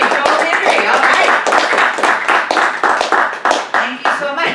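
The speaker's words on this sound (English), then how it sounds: "Big round of applause for Keely, Whitney, and Joel Henry." Audience at a Sunday service of a spiritual living center clapping close and loud, a dense burst of hand claps lasting several seconds, mixed with some voices.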